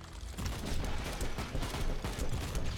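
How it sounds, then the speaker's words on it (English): Dense, continuous gunfire and explosions from combat in Warhammer 40K Inquisitor Martyr, a steady rattling barrage of shots and blasts filling the whole stretch at a fairly loud, close level, with no talk. "Explosions! All the explosions, give them to me!"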